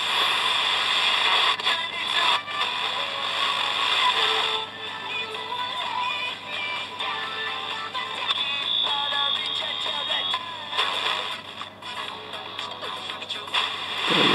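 A simple VHF super-regenerative receiver tuned to the FM broadcast band gives off a harsh, buzzing, distorted tone with whistles and tonal warbles, a steady noisy wash that runs throughout.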